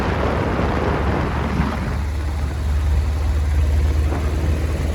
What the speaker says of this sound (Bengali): ক্ষিপ্র গতিতে ছুটে চলেছে আমাদের গাড়ি